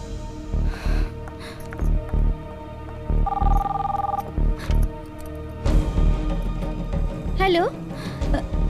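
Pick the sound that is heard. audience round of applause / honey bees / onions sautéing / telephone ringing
telephone ringing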